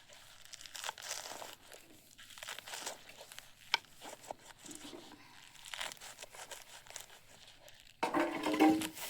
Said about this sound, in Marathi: पात एवढी राहिली एवढी कापून घेते आता.